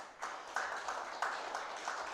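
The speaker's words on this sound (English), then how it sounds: "Please give them a round of applause." Applause at a Reggae Month morning event, a steady patter of clapping from a gathered audience, fairly faint and heard alone without talk.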